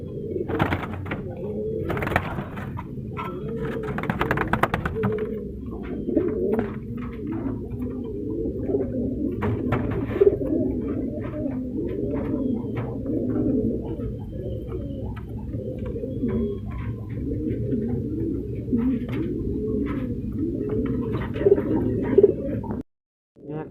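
Shirazi pigeons, a breeding pair with a black Shirazi, coo in steady, overlapping rumbling calls close by, with a few brief chirps over the top and a short break near the end.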